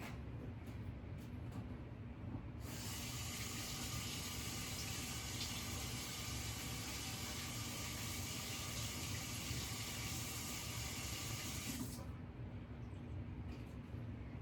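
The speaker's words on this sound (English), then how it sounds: "These are a little dirty. I am gonna wash these really quick." Tap water runs into a sink while dishes are washed. A steady, fairly close rush of water starts a few seconds in, flows evenly for about nine seconds, then cuts off.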